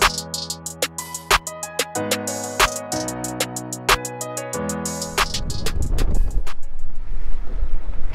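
Wind gusts roar across the microphone, building into a broad rushing blast, with sharp clicks and knocks sounding early on before the wind takes over.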